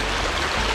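Fast-flowing clear river water beside rice fields, a dense continuous rushing and gurgling wash, close and steady with no voices.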